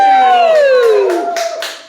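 A falling whooping cry rings out at a comedy night at The Dugout, followed by a few loud, separate hand claps close by as the sound trails away.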